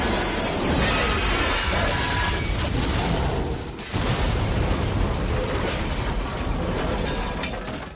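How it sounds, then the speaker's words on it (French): A helicopter explodes in the action film Die Hard with a Vengeance, set off when John McClane shoots a power line with the villain Simon Gruber aboard: a loud, dense roar of blast and crashing debris that runs throughout with a brief dip midway. "John McClane tire sur un fil électrique qui conduit à l'explosion d'un hélicoptère avec l'antagoniste Simon Gruber à bord"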